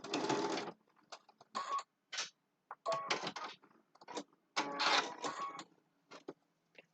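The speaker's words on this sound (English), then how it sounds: "So I just did a little stitching across" A domestic sewing machine runs in short bursts while stitching across a zippered boxed fabric bag, stopping and starting several times with quiet pauses between the runs.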